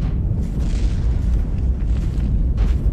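Missiles strike and pierce a ship's hull in a space combat game, making a continuous heavy, booming rumble of layered explosions at close range with no voices.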